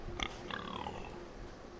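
A voice imitates a pig with a pair of quick nasal oinks, close and fairly quiet, during a PS4 live stream.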